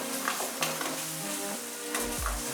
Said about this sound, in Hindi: लगभग 1 से 2 मिनट इसे भून लेना है।